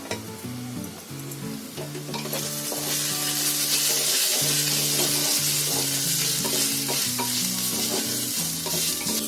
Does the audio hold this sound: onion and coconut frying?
yes